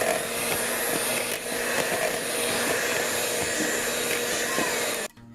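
An electric motor whirs steadily and close while chocolate cake batter is mixed, holding an even buzzing drone before cutting off abruptly near the end.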